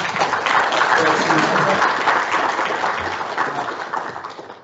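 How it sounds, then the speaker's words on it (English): An audience at a rail decarbonisation conference session gives a round of applause, a steady burst of clapping that fades away toward the end, with some voices under it. "Round of applause once more, please."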